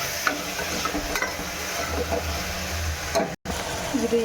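Chopped tomatoes with salt frying and being stirred in a pan for tomato bath, a soft close sizzle with spatula scraping and a brief dropout near the end.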